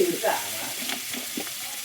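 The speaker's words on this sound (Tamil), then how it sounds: "வெண்டைக்காய் பொரியலுக்கு நல்லா வதங்கட்டும்" Okra sautéing in a pan for a Tamil poriyal, a quiet continuous sizzle with a few stirring clicks, close by and brief, with no one speaking.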